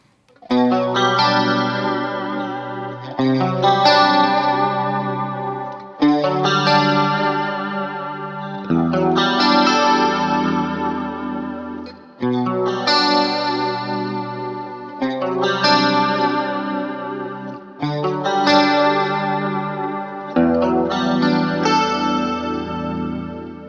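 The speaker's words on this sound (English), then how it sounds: "this is a clean guitar sound with just the tri-chorus in front" Clean electric guitar chords through an Inspire Tri-Chorus pedal, strummed one after another, each ringing out with a shimmering, wavering chorus effect, loud and close with no talking.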